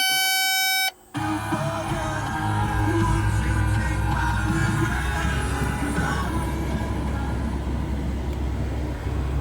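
A Cat 313FL excavator cranks and its diesel engine catches after a short beeping chime from the cab, then settles into a steady, loud idle rumble with a constant whine over it.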